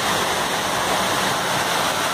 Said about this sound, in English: As you can see, the water dropping from the pillar.